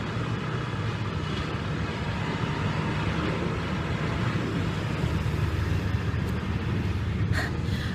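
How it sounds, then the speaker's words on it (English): A loud truck rumbles past outside, a heavy, continuous low engine drone that stays strong throughout with no voices over it. "there's a loud truck outside."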